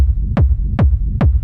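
A techno rumble kick drum programmed in Ableton thumps three times at an even pace, each hit a sharp click falling into a deep booming tail over a constant low rumble, heard alone.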